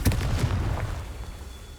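A Confringo fire-blast spell detonates in Hogwarts Legacy, a loud close burst with a deep rumbling boom that fades away over a second or so.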